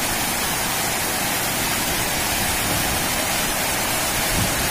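Excess water pours over Tara Dam in Purulia, a dam with no gates, making a steady, dense roar of falling and rushing water that holds constant and close throughout.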